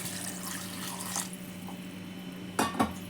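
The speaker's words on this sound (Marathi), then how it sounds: "दूध ओतलंय." Cold milk is poured into a container for a milkshake: a soft, continuous liquid splash close by, ending in a couple of brief clinks of a vessel.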